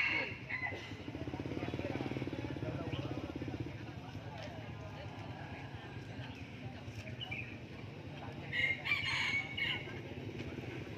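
A rooster crows amid the bustle of a bird market in Lang Son, fairly distant under general crowd noise and a passing motorcycle, with people talking nearby.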